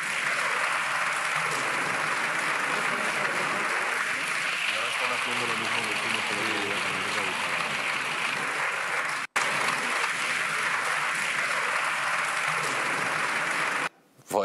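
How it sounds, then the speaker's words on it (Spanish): Parliamentary applause following a speech by Armengol, a sustained, dense crowd clapping that fills the whole stretch, briefly cut once, with faint voices beneath. "No sé si tenemos imágenes de esos aplausos, pónganlas imágenes"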